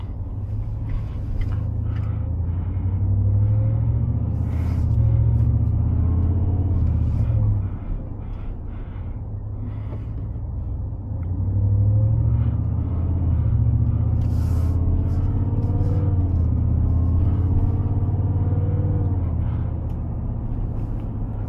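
A supercharged pickup truck engine rumbles close by, swelling twice into low, growling acceleration with a brief easing off between pulls.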